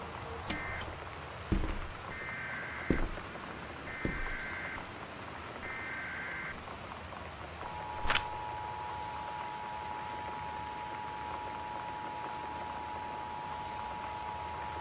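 Steady torrential rain from a storm with high winds in the Gone Home game, a constant hiss throughout, with a few sharp ticks and a beeping tone early on, then a long steady tone over the rain, no talk.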